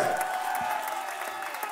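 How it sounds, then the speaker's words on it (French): A festival audience applauds and cheers the technical crew at Aoustock 2023, a steady wash of clapping and crowd noise under a live announcer's voice. "Applaudissez-les bien fort, mesdames et messieurs."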